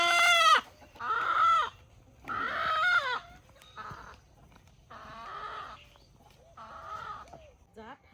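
A caught village desi rooster squawks and clucks in close, loud bursts, about six agitated calls separated by short pauses, outdoors on a cold, windy day.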